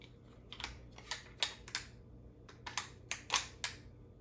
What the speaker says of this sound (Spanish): Ahí escuchan el clic.